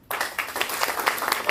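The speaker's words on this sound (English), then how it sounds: "Please give the team a big applause." An audience at a law event bursts into applause at a trophy presentation, with dense, steady clapping that starts abruptly and carries on close and loud.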